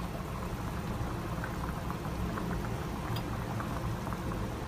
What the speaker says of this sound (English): Wait for the water to boil.